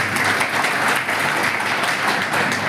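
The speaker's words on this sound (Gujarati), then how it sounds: "તાળીઓથી એમને આજે વધાવી લઈએ।" A crowd at a Congress election rally in Hadad village, Banaskantha, Gujarat, claps for a Lok Sabha candidate. The applause is a dense, steady, loud burst of many hands with no talking over it.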